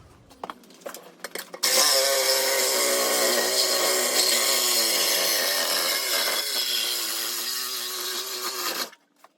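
A power tool cuts through a Jeep Wrangler JK exhaust pipe, giving a loud, sustained harsh grinding whir of about seven seconds after a few short clanks, then stopping abruptly.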